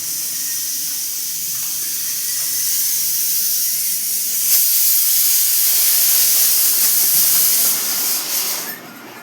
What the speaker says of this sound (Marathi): कुकरची सुट्टी वाजली